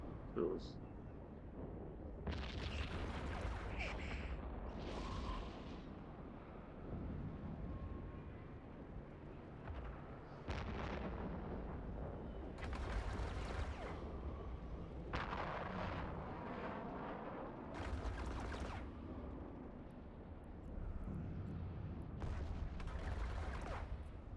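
Missiles fire and explode over and over during a space battle in the video game EVE Online. The booms are deep and rumbling and come in bursts, and a person talks over them the whole time.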